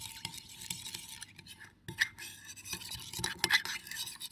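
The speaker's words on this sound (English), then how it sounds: "Soy sauce and the sugar and the sesame oil and the white pepper. So you all mix together." Soy sauce, sugar, sesame oil and white pepper being stirred together in a bowl, a soft clinking of utensil against the dish with light scraping, quiet and close.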